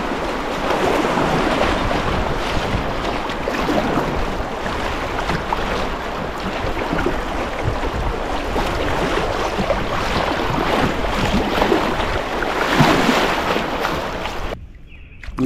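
A kayak on the Kokosing River passes through shallow riffles, with steady splashing, gurgling water and wind buffeting close to the microphone, continuous throughout before a brief drop near the end.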